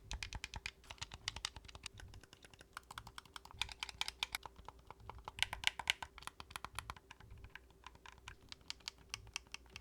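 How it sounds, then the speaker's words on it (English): Rapid, continuous clicking of PowerA Enhanced Xbox One controller buttons, louder than a first-party controller, close up, in quick irregular bursts with a faint steady hum underneath, no voices. "this controller is noticeably louder than its first-party counterpart"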